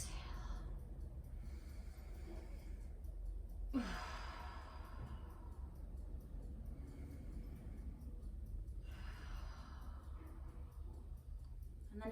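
Slow, deep yoga breaths, long audible exhales and inhales repeated in a steady rhythm over a low constant room hum, close and soft, with no speech.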